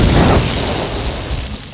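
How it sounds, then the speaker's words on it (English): A big explosion in the video game Knights of the Old Republic: a loud, deep boom that bursts at once and then rolls off into a fading low rumble over about two seconds. "Oh, we didn't get to see the big explosion."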